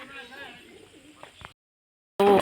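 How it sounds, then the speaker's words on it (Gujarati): Soft pigeon cooing nearby at a cow shelter, low and murmuring, cut short by a silent gap, then a brief louder burst at the end. "કેટલા બધા કબૂતરા છે"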